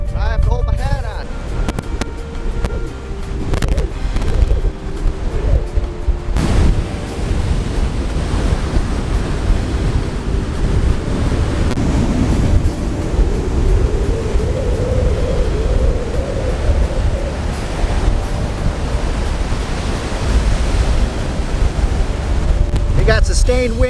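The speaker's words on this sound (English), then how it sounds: "we've arrived in the Atlantic Ocean, Melbourne Beach, Florida, and winds are kicking" Strong wind of around 35 mph, ahead of a tropical storm, roars and buffets the microphone on Melbourne Beach, Florida, over the steady wash of Atlantic surf, with someone talking through part of it.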